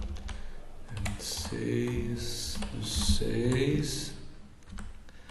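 Computer keyboard keys tapped in short irregular clicks while a date is entered, heard close under a man's ongoing speech.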